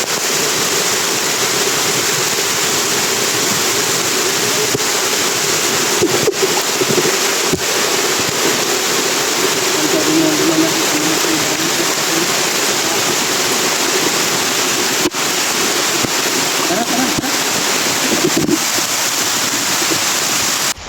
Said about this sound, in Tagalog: Grabe, ang lakas talaga ng ulan Brad.